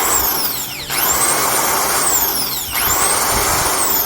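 A Black & Decker HM13 electric drill running freshly fitted with replacement carbon brushes: a loud, steady whine alone, with two brief dips in speed where the pitch sags and climbs back up.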